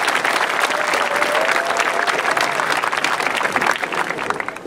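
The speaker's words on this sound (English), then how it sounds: "So let's give a round of applause to them." A graduation ceremony audience applauding, loud sustained clapping from a large crowd that carries on evenly from start to finish.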